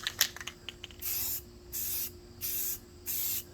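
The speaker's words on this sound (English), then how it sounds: "now we spritz it with just clean metal primer" Three bursts of aerosol spray from a can of clean metal primer, each a steady hiss lasting about half a second, close and fairly loud with short gaps between, preceded by a few light clicks.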